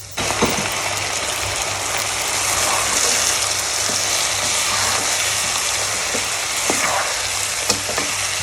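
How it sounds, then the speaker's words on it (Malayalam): Pieces of mutton hit a hot pan for a Kerala-style stew, giving a steady loud sizzle and crackle of frying with occasional stirring clicks, and no voices. "നമുക്കിനി നമ്മൾ എടുത്തു വച്ചിരിക്കുന്ന മട്ടൺ കഷ്ണങ്ങൾ ചേർത്ത് കൊടുക്കാം"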